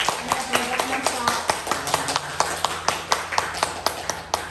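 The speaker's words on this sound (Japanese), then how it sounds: "本日御言葉を取り継いでいただいた平野先生に感謝の拍手をいたしましょう。" A church congregation at a Sunday worship service claps to thank the preacher, with steady, close applause, individual claps distinct and regular throughout.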